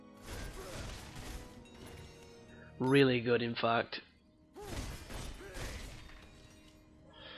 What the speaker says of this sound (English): I'm smashing all the scenery here